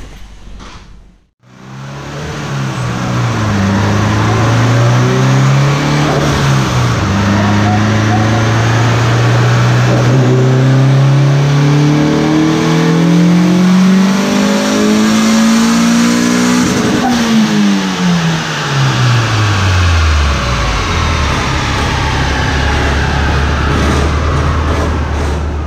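Turbocharged car engine on a dyno pull at 13 PSI, rising steadily and loudly in pitch for about fifteen seconds before revs fall away, with a faint voice underneath.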